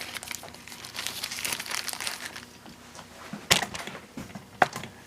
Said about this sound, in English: let's go ahead and unpackage our new keyboard